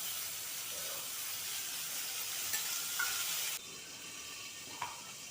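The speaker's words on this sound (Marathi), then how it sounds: "याच्यामध्ये आता मी वांगे टाकते आणि थोडंसं तेल टाकून मंद आचेवर शिजून घेते" Eggplant cooking in a little oil over a low flame gives a soft, steady sizzle and hiss, with a couple of faint clicks and a slight drop in level partway through.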